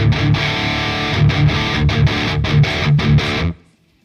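High-gain distorted electric guitar through an amp sim plugin, played in an old school death metal style with the input driven hard: loud, dense chugging riffs in rhythmic bursts with brief gaps, ending abruptly.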